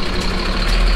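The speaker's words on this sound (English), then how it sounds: "That's how the lorries get round the old town" Lorry engine in a Spanish old town, a loud, close, heavy low-pitched diesel drone holding steady for a moment, no voices.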